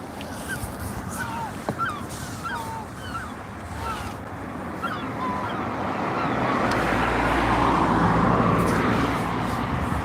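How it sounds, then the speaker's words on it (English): Several seagulls give short, squealing calls in quick succession near a seaside road at sunset, over a constant outdoor rumble of wind and distant traffic that swells toward the end. "Oh, seagulls are around and about."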